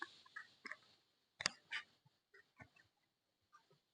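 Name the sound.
flock of birds calling overhead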